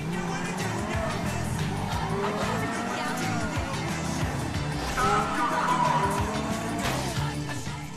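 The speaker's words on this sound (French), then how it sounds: "Comme si on faisait un dérapage en continu ou qu'on faisait un burn-out trop longtemps." Car in GTA V skidding on a burst tire, with long squealing tire screeches rising and bending over a rumbling engine, swelling louder near the end, a voice talking over it.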